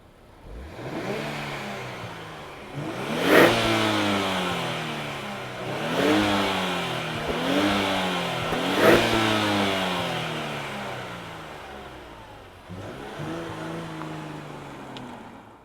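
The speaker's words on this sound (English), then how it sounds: "Let's hit the streets of Tokyo and go for an on-throttle spin, international on-throttle spin in this Fairlady Z." A 2024 Nissan Fairlady Z sports car engine revs hard on Tokyo streets, its pitch climbing in several repeated rising sweeps with brief drops between shifts, loud and close with no talking.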